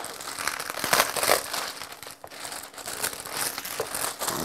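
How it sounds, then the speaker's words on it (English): Plastic wrapping crinkles and crumples loudly and close up as it is pulled off whetstones, in irregular bursts of rustling and crackling. "As soon as I get the plastic off."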